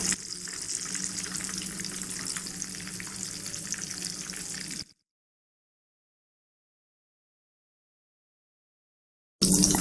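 Aloo tikki potato patties frying in oil, a steady bright sizzle running for about five seconds, then silence before the sizzling returns briefly at the end.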